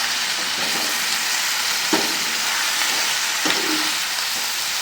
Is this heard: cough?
no